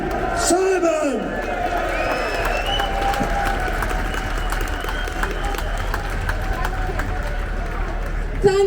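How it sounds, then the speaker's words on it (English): A rally crowd in Manchester applauds and cheers for a co-leader, a steady wash of clapping and scattered whoops sustained throughout, fairly loud and close, with a voice briefly heard at the start. "So a massive round of applause for the Britain First co-leader, Ashley Simon."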